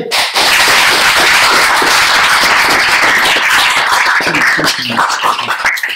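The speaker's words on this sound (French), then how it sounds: "on va pouvoir les applaudir" An audience at a French talk applauds its speakers: dense, loud, sustained clapping from a crowd, close by and continuous for several seconds.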